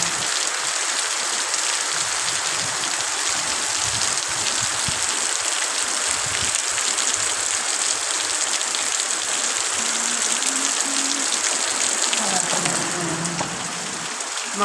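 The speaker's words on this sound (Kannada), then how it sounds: "ಮಳೆ ಬರ್ತಾ ಇದೆ ಚೆನ್ನಾಗಿ" Heavy rain pours steadily through the night, a dense, constant hiss of drops on surfaces with no break from start to finish and no voices.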